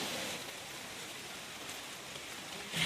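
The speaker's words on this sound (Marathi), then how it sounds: "बघा केवढ्या जोरात पाऊस आलाय" Sudden heavy winter rain pours down outdoors, a dense, steady roaring hiss of drops that stays even and fairly loud throughout the short stretch, with no voices.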